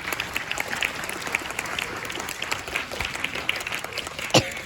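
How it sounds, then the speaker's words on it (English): Audience applause for the organizing crew at a WCA speedcubing newcomers event, a steady dense clapping from a crowd of moderate size that holds throughout, with one sharper, louder burst near the end. "let's give a little bit of round of applause to all of them"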